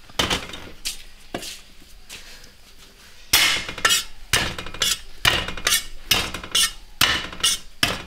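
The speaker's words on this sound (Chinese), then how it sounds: "拍一下，然后姜也拍一下，" Celery, green pepper and ginger being smashed and chopped on a chopping board with a cleaver, a run of sharp, loud, close thwacks in quick irregular bursts, with no talking.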